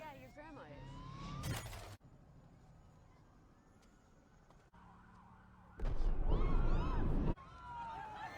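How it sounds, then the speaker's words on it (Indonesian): Police sirens wailing through a city in a zombie film, loud and layered with sweeping tones in bursts and separated by abrupt cuts to quieter street ambience and a distant wail. "bunyi sirene polisi meraung-raung"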